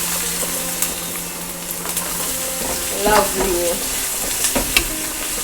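Mustard seeds and onions sputter and fry in hot oil in a pan, a steady crackling sizzle with a few sharper pops and spoon scrapes, and a short spoken word partway through.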